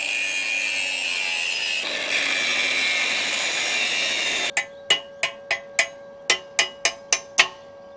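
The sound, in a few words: cutting a slot for a bolt with a power tool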